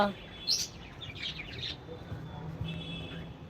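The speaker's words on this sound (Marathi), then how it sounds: "बघा आमचे पक्षी" Birds chirp at a distance in brief scattered bursts, a few high tweets over a quiet outdoor background with faint low noise.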